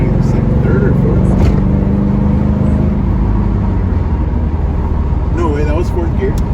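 A Z28 F-Body Camaro is floored in fourth gear, its engine building from a deep, steady drone into a loud, full-throttle pull, with voices talking over it inside the car.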